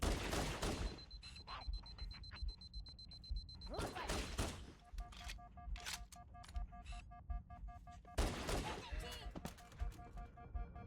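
Halo video game gunfire with bursts of rapid weapon fire and explosive blasts, loud in stretches and separated by electronic tones and beeps, while a player talks over it at times.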